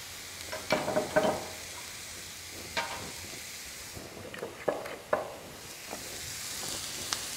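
Mushrooms fry in oil in a pan with a soft steady sizzle, broken by scraping and clattering as they are stirred and turned, with no talking.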